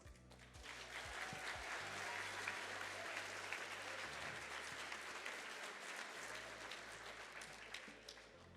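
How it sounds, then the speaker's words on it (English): Audience applause at a high school decision day ceremony, a steady, even wash of many hands clapping that holds throughout at moderate distance. "you can give her a big round of applause"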